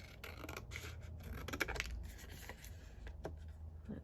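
Scissors cutting a sheet of paper in half, faint and close, with quick crisp snips and light rustling of the paper.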